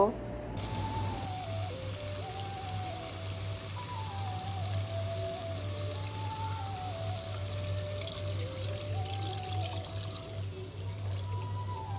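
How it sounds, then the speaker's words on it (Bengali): A steady rush of water pouring into a pan of fried masala for hilsa fish curry, continuous for several seconds, with a low hum and faint melodic voice or music in the background. "এখন আমি ঝোলের জন্য পানি দিয়ে দিব"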